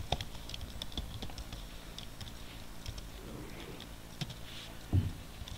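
Java code being typed on a computer keyboard, a steady run of light key clicks with a few heavier thumps, close by and fairly quiet.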